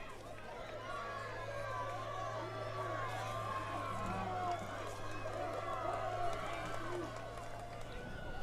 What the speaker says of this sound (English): Patriot crowd getting loud now.